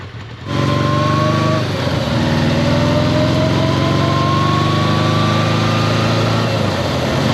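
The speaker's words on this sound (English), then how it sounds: "I love how unique her exhaust note is." A 1982 Kawasaki motorcycle runs at a steady idle, its smooth exhaust note a loud, constant drone with a faint rising whine, close and unbroken for several seconds with no voices.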